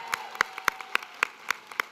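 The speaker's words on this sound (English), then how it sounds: "Cindy Chavez, please rise. I want to give her a huge round of applause." A small audience at a women's leadership and policy summit claps for Cindy Chavez. The claps are sharp and separate, falling in a steady, quick rhythm, with nothing else underneath.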